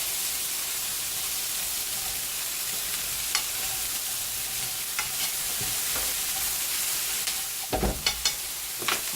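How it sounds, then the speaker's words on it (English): A steak sizzles and fries in a pan, giving a continuous close hiss with occasional louder crackles and scraping stirs near the end. "My steak ain't quite done. I'm going to let it cook a little bit longer"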